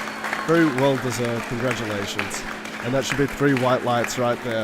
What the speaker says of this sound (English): Hopefully you can hear all the cheering and the clapping in the background.